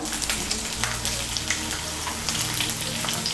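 Chopped onion, ginger and green chilli fry in a pan for an Aloo Dum, giving a steady close sizzle with a few soft clinks of stirring throughout.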